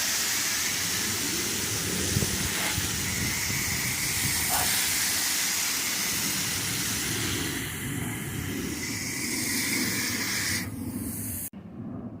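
A water spray hisses steadily and loudly while rinsing an AC condenser coil during a tune-up, running continuously close by for most of the time before cutting off abruptly near the end.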